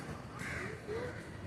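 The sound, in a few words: parrot calling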